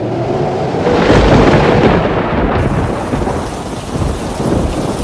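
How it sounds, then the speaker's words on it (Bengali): A sudden thunderstorm with rain in a cartoon: steady, loud rain hisses throughout while deep thunder rumbles and swells, with no voices. "হঠাৎ ঝড় বৃষ্টি শুরু হয়।"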